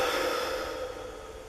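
A long, steady exhale during a yoga session makes a broad breathy whoosh close to the microphone that slowly fades.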